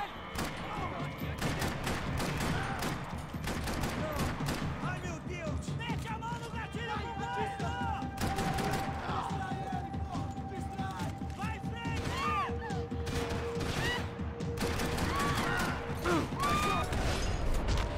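Sustained gunfire from a Max Payne 3 shootout, dense repeated shots and bursts running throughout, mixed with game voices and music over nearly continuous loud action.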